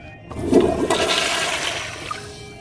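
A toilet flushing with a loud rush of water that swells quickly and then drains away steadily for a couple of seconds, with no one talking.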